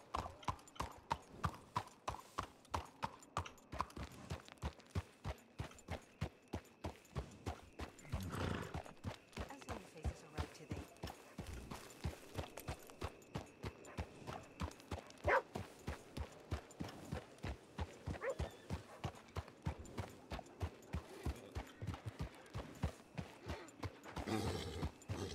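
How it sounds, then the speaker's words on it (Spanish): Wild horses' hooves clip-clop steadily in a Western role-play video game, a fast continuous rhythm of close hoofbeats with an occasional whinny and quiet talking now and then. "Voy a alejar los caballos, tío, salvajes."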